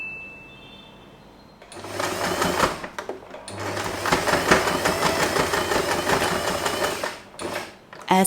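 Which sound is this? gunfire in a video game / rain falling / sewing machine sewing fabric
sewing machine sewing fabric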